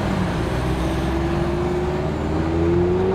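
A Mazda Miata with an aftermarket exhaust drones steadily and loud on a freeway, its pitch slowly climbing as it accelerates over constant road rumble, with no talking.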